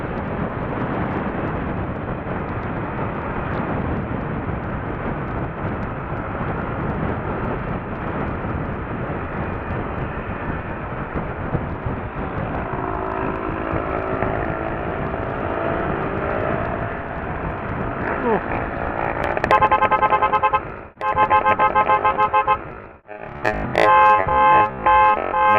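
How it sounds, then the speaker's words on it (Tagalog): A loud motorcycle roars close by on a one-way service road, a heavy continuous engine drone that grows harsher and more broken near the end as it passes. "Grabe, lakas ng motor na to"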